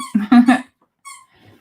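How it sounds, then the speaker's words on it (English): A dog squeaks its squeaky toys: a quick run of three close, shrill squeaks, then a short squeak and a faint rustle after a pause. "You can't squeak your toys."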